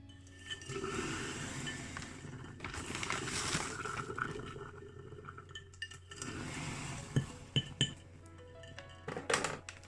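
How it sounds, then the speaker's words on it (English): Boiling water and caustic soda poured into a tall glass hot dog jar: splashing, gurgling pours with glassy clinks and taps, close by, ending in a few sharp knocks against the glass. "into my foot-long hot dog jar goes some boiling water and a couple of teaspoons of caustic soda"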